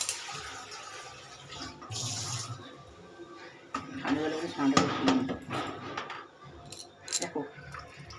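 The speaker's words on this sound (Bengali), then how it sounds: "এই ঠান্ডা জল দিয়ে ছানাটাকে একটুখানি ধুয়ে নিচ্ছি" Cold water running and splashing as fresh chhana cheese curds are rinsed in a bowl for nalen gur rasgulla, with intermittent sloshing and clinks under a person talking.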